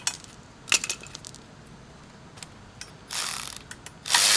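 Ratchet clicks in short bursts as an 8mm Allen socket loosens the coolant return line on a 2010 Volkswagen Tiguan during a turbo install, with quiet gaps between the close, crisp pawl rattles.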